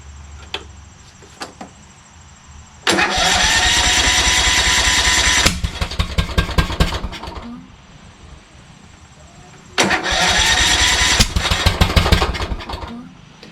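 A Kohler Courage 20 engine on a Craftsman YS4500 lawn tractor cranks and catches twice, each burst running loud and rough for a few seconds before dying back to quiet, with faint clicks between attempts.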